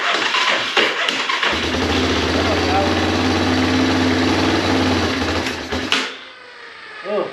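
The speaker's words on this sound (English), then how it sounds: "them Yamaha motors always sound rough" A Yamaha Big Bear 350 ATV engine with heavy compression runs rough at close range, a loud, steady, uneven drone that cuts out abruptly near the end.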